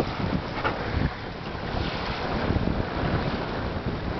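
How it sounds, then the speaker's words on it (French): Sea washing over a pebble beach, a steady broadband rush of surf mixed with wind buffeting the microphone, continuous and fairly close with no talking. "Et la mer qui est juste là."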